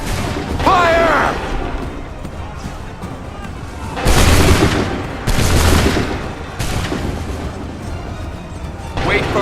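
Musket volley fire in the video game Assassin's Creed 3 Remastered: loud broadband blasts burst out around four and five and a half seconds, with a shouted voice and battle noise in between.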